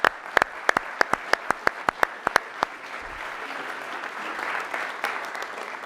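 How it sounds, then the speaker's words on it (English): At a city council meeting, a few sharp, separate handclaps ring out in quick succession for a police chief, then merge into a softer, spread-out round of applause from the chamber. "I want to give him a round of applause for everything that you do and everything your police officers do"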